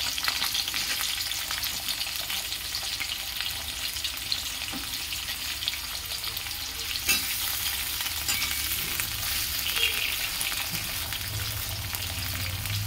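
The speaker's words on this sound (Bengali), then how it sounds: "গাজরগুলো ভেজে নেব।" Carrot pieces frying in hot oil in a home kitchen pan, a continuous loud sizzle and crackle with occasional stirring scrapes, close by and without talk.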